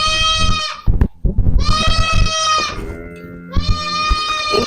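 A goat bleats three times, loud and near, each call long and quavering, with short rustling and thuds between them.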